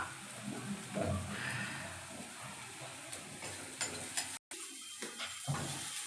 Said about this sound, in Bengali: আমি এখন বানাবো ভাত ফ্রাই মানে ভাত ভাজা